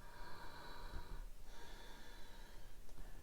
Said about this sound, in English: take some deep breaths in